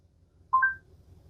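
A Hyundai i20's wireless Android Auto system sounds a short two-note electronic tone as an outgoing phone call is placed, clear and alone over faint cabin hum.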